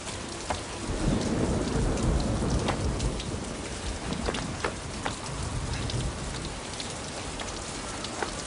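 Heavy rain pours down steadily during a thunderstorm on an island, with rolling thunder rumbling through a dense, continuous hiss of falling water.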